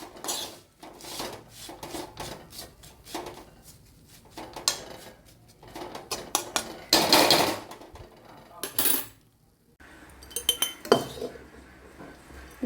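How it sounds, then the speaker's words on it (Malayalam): Homemade Kerala oil mango pickle, already fried in oil, being moved into another vessel: clinks and scrapes of a spoon against metal and glass containers, irregular and close, with a couple of louder clattering bursts. "ഇനി നമ്മൾ വേറൊരു പാത്രത്തിലോട്ട് പകർന്ന് വയ്ക്കാം"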